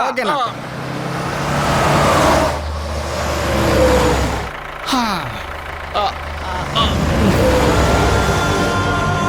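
A vehicle engine starts and revs, then pulls away with rising and falling engine tones amid road noise, while people talk over it.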